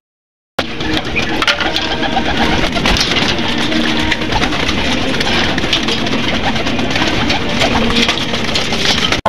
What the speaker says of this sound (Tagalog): ang mga puting yan ay ang mga Edwin Mully lines natin guys